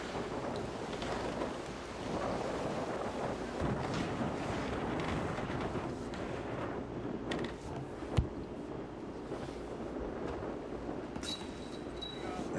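Strong gusts of wind roar and buffet across an open disc golf course at a tournament round in Wyoming, a continuous rough rumble with a sharp knock partway through and faint murmurs of people underneath.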